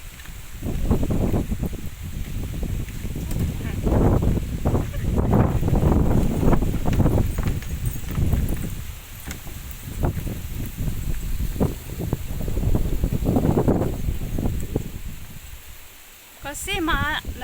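Strong wind on a windy day among coconut plants in Caracol, roaring in gusts across the microphone with heavy low rumbling buffeting that rises and falls throughout, loud and close, with voices briefly heard under it.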